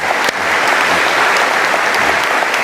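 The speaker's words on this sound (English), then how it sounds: "That deserves a round of applause." A debate audience breaks into loud, dense applause, a continuous close roar of many hands clapping that holds steady throughout without any voices standing out.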